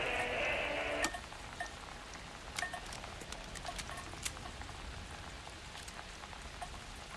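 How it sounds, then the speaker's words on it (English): Steady rain patters on a surface in the video game Alan Wake 2, with scattered louder drips and taps over a constant hiss; a brief tonal sound fades out at the start. "You can hear the rain hitting that."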